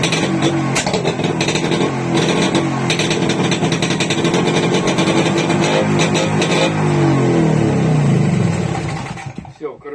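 A Tula TMZ-5.951 all-terrain motorcycle engine runs loud and close, a rough, rapid, hammering throb that holds steady before sputtering and cutting out near the end.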